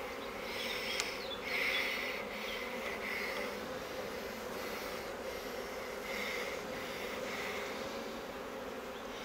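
Honeybees buzzing around an opened hive, a dense continuous drone of many insects with brief louder passes close by, and no voices.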